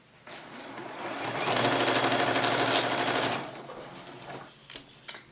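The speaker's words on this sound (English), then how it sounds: "And you're just going to run it along your machine at a 1/4 inch." Sewing machine chain-piecing patchwork fabric at a quarter-inch seam, a close, loud burst of rapid stitching lasting a few seconds, then scattered clicks and handling noises.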